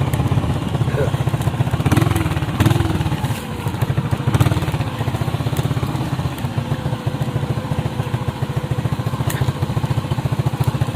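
A motorcycle engine drones steadily and up close throughout, as if heard while riding on it, with faint chatter in the background.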